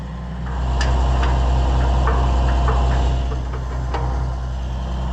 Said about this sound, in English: I'm gonna have to use the tractor to pull it.